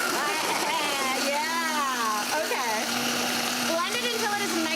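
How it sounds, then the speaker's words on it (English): A blender whirs steadily, crushing a frozen beer margarita slush of ice and beer, with a constant motor drone running throughout and someone talking over it. "let's see if the blender is my friend today"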